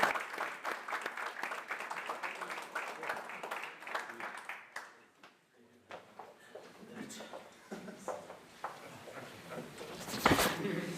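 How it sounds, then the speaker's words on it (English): Audience applause at an old boys' association annual general meeting, a dense run of close hand claps that thins and fades midway before scattered claps return and trail off. "I just give them a round of applause."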